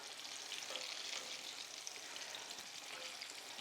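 Gluten-free, dairy-free chicken tender frying in sunflower oil in a pan, a soft, even sizzle with light crackling pops, fairly quiet and steady throughout with no speech.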